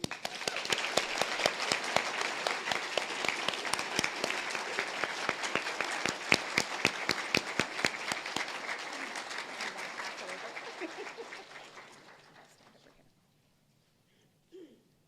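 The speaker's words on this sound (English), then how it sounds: "Let's give her a huge chamber round of applause." An ATHENA Awards audience applauds loudly and steadily for about twelve seconds, a dense wash of clapping that fades out to near quiet.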